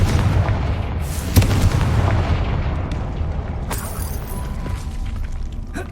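The Confringo explosive spell in the Hogwarts Legacy video game lands as a sharp, heavy boom, followed by a rumbling tail and scattered debris crackle beneath game ambience.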